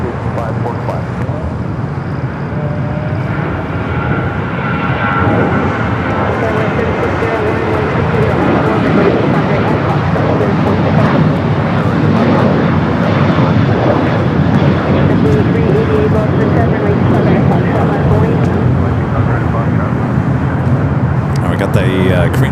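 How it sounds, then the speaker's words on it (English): A Korean Air Boeing 747-8 Intercontinental, inbound from Seoul, arrives at LAX with a steady, loud jet engine roar that builds slightly and holds throughout, with voices talking over it. "The 747-8 Intercontinental Flight 11 coming in from Seoul."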